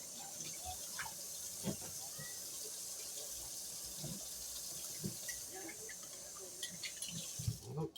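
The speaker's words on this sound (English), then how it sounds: "Let me wash this spoon." A spoon rinsed under a running kitchen tap, with a steady close hiss of flowing water and a few faint clinks of metal against the sink throughout.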